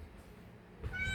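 Cats meowing near a group of pets waiting for food, a short meow rising at the end over low background noise.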